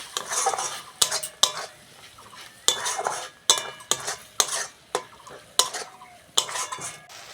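Chilli and turmeric being stir-fried in oil in a pan, a low sizzle broken by a dozen or so sharp, rhythmic clanks of a metal spatula scraping the pan.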